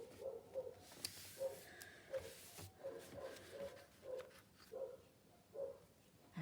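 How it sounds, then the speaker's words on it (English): Dogs bark outdoors in a steady series of short, evenly spaced barks, faint and distant, over a quiet room background. "There go the dogs."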